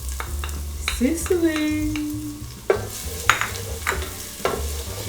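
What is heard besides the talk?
stirring minced garlic frying in pan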